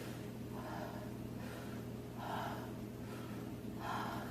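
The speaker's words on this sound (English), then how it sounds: "And I can breathe in and out too." Slow in-and-out breathing from a singer demonstrating open, expanded ribs, with several soft airy breaths at a steady rhythm over a low constant hum, close and quiet, no talking.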